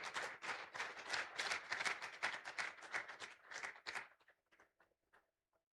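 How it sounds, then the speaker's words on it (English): Audience applause welcoming a speaker to the stage at a World Hydrography Day event, dense steady clapping for about four seconds that then thins out into a few scattered final claps. "Please, with a round of applause, let's welcome Mr. Peter Ritchie."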